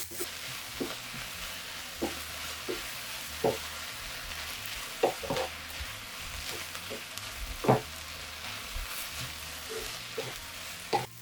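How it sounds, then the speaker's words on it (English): Soy sauce sizzling on a hot pan with ramen noodle fried rice, a steady hiss of frying under repeated scraping and stirring knocks of a spatula on the pan, close and moderately loud. "pour soy sauce directly onto the hot surface so it sizzles and darkens before you fold it in"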